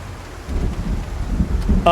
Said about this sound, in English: The noise from the storm, I don't believe, is of much use to you.